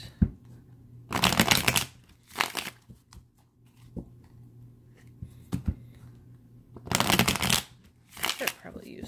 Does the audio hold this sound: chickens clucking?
no